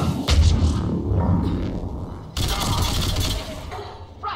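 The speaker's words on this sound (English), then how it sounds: "Oh, that sounds like a turret." Turret gunfire in the video game Mass Effect 3, heard as loud, rapid bursts of automatic fire with heavy rumbling impacts, broken by a brief lull before a second sustained burst.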